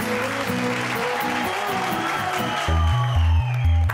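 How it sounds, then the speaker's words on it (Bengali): A studio audience on a Bengali TV game show applauds and cheers loudly after a quiz round, the clapping mixed with whoops while a bold musical sting plays underneath. "দেবদূতের জন্য একটা জোরে হাততালি সবাই মিলে"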